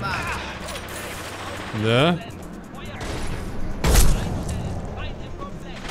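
Gunfire in the sci-fi shooter Mass Effect 2 breaks out in two sharp blasts a couple of seconds apart, mixed with whooshing weapon effects and background game noise, while a brief word is spoken.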